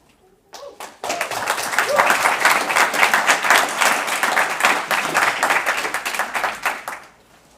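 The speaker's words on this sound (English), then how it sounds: "That's a really nice round of applause for Rebuild." Audience applause for the team Rebuild at the Global Grand Final 2019, starting after a short clap, then dense, steady clapping from a large crowd that swells and carries on for several seconds before tapering off.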